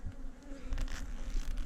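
Honeybees buzzing inside a queenless colony's hive opened for inspection, a sparse, steady hum held close throughout with no talk over it.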